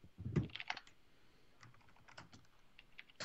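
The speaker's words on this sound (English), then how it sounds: "I love my mechanical keyboard, though." Fast typing on a mechanical keyboard, a burst of crisp, loud clacks followed by a lighter, scattered run of keystrokes with no voices.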